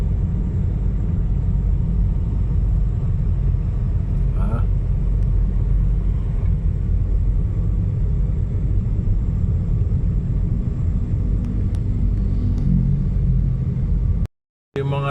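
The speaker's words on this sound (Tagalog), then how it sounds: "Ito highway na ito boss," Steady low traffic rumble along a busy Marikina highway, continuous and fairly loud throughout, with a brief dropout near the end.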